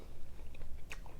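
Someone bites into a banh mi sandwich with crunchy pickled vegetables, hoisin and sriracha, chewing close up with soft, wet crunches and one sharper crisp snap near the end.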